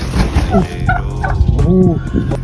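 A turkey gobbles loudly and close by in repeated bursts of warbling calls, with brief rattling gobbles following one another across the whole clip.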